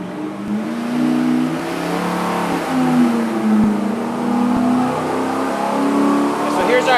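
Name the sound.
engine revving at full throttle on dyno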